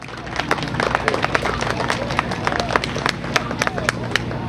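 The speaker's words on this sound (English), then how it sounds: "Let's give a round of applause again for Romeo" An audience at a summer festival demo claps in a steady, busy patter that lasts throughout, with a crowd murmuring underneath and no voice standing out.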